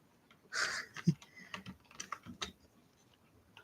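Fingers tap out irregular bursts of keystrokes on a computer keyboard, close and fairly quiet, with a brief rustle near the start and no talking.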